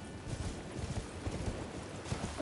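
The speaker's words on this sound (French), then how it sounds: "Ah, je peux avoir mon cheval ici." A horse galloping in the video game Elden Ring, steady rapid hoofbeats over a dense game soundscape, continuous and fairly loud with no talking.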